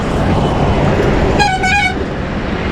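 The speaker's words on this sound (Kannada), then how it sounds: "ಯಾಕೆ ಹೊಡಿತಾರೆ ಹಾರ್ನು?" A vehicle horn on a road near Satara gives one short blast that rises out of loud, steady wind and traffic rumble.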